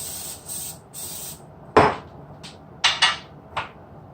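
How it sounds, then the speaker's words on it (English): Cooking spray hisses onto a pancake pan in a home kitchen in several short bursts, a few quick sprays with brief clatters between them, close and fairly loud, with no talking. "and I'm just gonna spray this."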